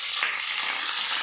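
Green chilies hit hot oil in a pan with potatoes, giving a brief, close, continuous sizzle of frying.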